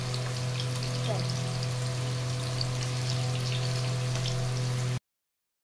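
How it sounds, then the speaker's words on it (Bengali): Long strips of pointed gourd (potol) fry in hot oil with a dense, even crackle and a steady low hum underneath, close and continuous, then the sound cuts off abruptly. "পটলগুলো লম্বা লম্বা করে ভাজতে দিয়েছি"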